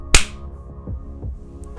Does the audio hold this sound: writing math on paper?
no